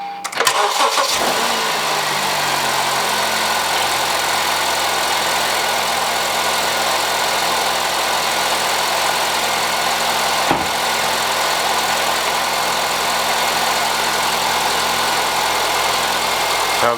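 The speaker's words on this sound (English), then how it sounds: "After that, you can go ahead and start up the car," An Acura ILX engine cranks briefly, catches and settles into a steady, close idle hum that runs on alone, with a small click partway through.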